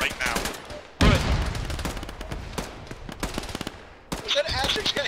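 Loud, close machine-gun fire in the military sim Arma during a ShackTac squad firefight: sustained rapid bursts with brief pauses, chattering on through the whole stretch as a player's voice cuts in over the shooting.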